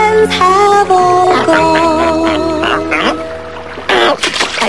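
Nasal, repeated quacking from a cartoon duckling in a 1991 animated movie, loud and close, in a quick series of calls with musical tones underneath.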